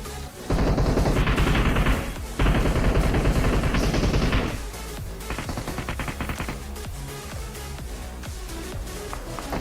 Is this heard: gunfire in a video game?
yes